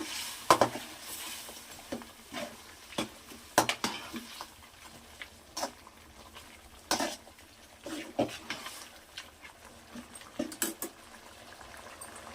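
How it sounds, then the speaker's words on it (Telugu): Boiled mutton is tipped into a pan and stirred for a kurma, with repeated clanks and scrapes of a spoon against metal over a soft bubbling sizzle, the knocks coming in uneven bursts. "ఇప్పుడు దీంట్లోకి ఉడికించిన మటన్ వేద్దామండి. వేసి కలుపుదాము."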